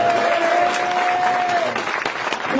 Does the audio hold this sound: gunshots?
no